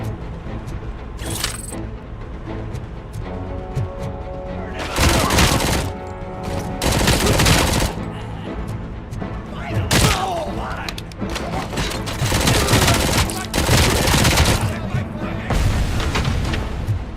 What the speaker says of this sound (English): This SMG is almost like a cheat code.